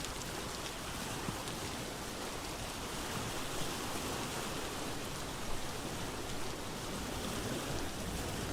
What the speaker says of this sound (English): Rainfall in this area almost all the time.